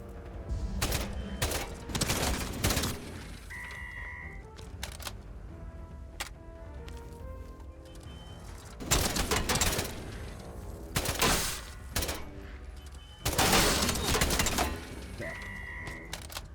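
Bursts of rapid gunfire from shooting in the video game Atomfall come in several loud volleys separated by quieter stretches, with a few single shots and brief mechanical game sounds, no talk.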